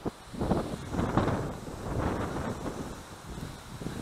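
Strong wind buffets the microphone outdoors during a duck hunt, a loud continuous low rumble with gusts that swell and fade, and no voices.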